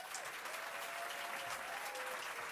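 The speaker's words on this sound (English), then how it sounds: "Let's give a round of applause." Steady audience applause fills a large room at a public event in New York celebrating Interior Secretary Deb Haaland, a dense wash of many hands clapping at even loudness throughout, with a faint tone drifting across it.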